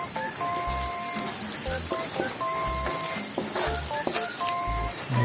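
Violet onions sauté in a pan for Filipino-style corned beef, giving a loud, close sizzle mixed with scraping stirs and soft knocks of a utensil, with some background tones.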